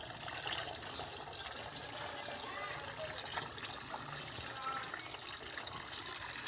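Tap water from a municipal supply runs in a steady, faint trickle and splash, continuous and unbroken with no voices.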